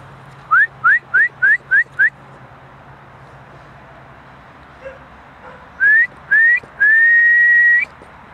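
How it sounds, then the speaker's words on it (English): A person whistles to call an animal outdoors: a quick run of six short rising whistles, a pause with faint background, then two more rising whistles and one long sustained whistle, loud and close. "I'll whistle and see from which direction he comes from."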